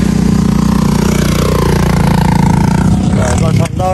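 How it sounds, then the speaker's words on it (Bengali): A beach bike engine runs close by at an evening beach in Cox's Bazar, a loud, steady motor drone that stays constant before dipping briefly near the end. "এই যে বিচ বাইক"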